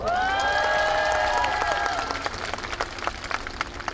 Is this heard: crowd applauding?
yes